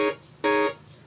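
Synth chord from an initialized Massive patch with no low-pass filter, played as two short bright buzzy stabs with a gap between them, loud and up close, nothing else around them.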